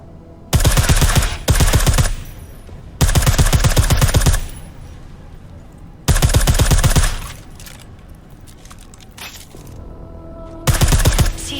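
Silenced automatic gunfire at a shooting range in the video game Deus Ex: Mankind Divided comes in four loud, close, rapid bursts, with quieter mechanical rattling between them.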